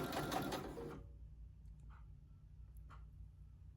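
A regular home sewing machine stitches a t-shirt neckline, a close, brief burst of rapid mechanical whirring that stops after about a second, followed by quiet with a couple of faint clicks.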